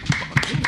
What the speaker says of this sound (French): Alors là, on frappe sur la table.